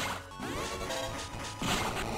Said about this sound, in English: Charge shots.